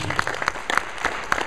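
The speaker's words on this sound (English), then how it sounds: "Big round of applause for LJ." A brief round of audience applause for LJ at a talk, a steady wash of many hands clapping at fairly loud level, with a few sharper claps standing out.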